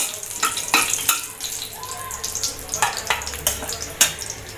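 Whole spices for masoor pulao, a bay leaf, cardamom, two cloves and a piece of cinnamon, crackle and sizzle in hot oil, with sharp pops and clicks over a steady close frying hiss.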